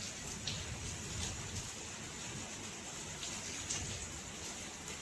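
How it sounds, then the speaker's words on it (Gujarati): Rain falls at night, around half past two, soaking the roads, heard as a soft, steady, even hiss with occasional drip ticks, distant and quiet, with no voices. "જોવો તમે નકરો વરસાદ વરસાદ વરસાદ."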